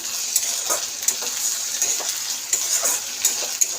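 Ginger-garlic paste sautéing in a pan while being stirred for a spicy paneer dish, a steady close sizzle with light spoon scrapes and small clicks recurring throughout.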